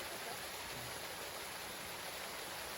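A forest waterfall roars as a steady, dense broadband rush, continuous and even throughout with no breaks, heard alone without voices and at fairly low level.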